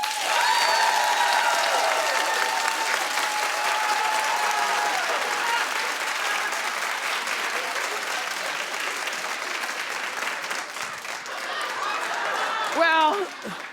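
A studio talk-show audience bursts into long, dense applause that holds steady for over ten seconds, with a voice and some whooping near the end.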